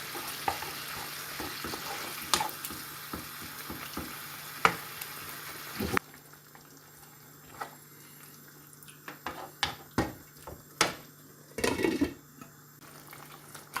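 Chicken and lentil curry with tomato puree in a pan, sizzling and bubbling with irregular stirring scrapes and knocks, louder and brighter at first, then quieter and sparser after a few seconds.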